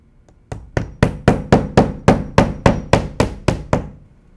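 Fasteners hammered into a Celect shake siding panel, about a dozen sharp, evenly paced strikes ringing out close and loud with no talking.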